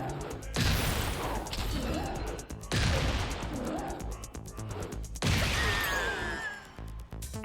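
King's reverse bomb wrestling throw in Tekken 8, heard as a run of loud crashing impacts and slams with harsh bursts, three heavy hits spaced across the stretch amid game effects.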